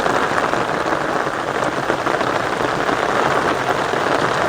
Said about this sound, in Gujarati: પવન નથી એટલે સારો એવો વરસાદ પડી ગયો છે